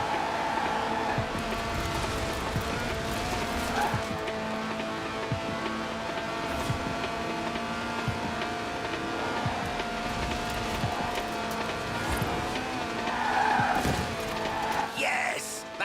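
A lightweight Lotus in Forza Horizon 4 with a 1.8-litre engine revving to 8,000 RPM, drifting with a continuous high-revving engine drone and tire skid.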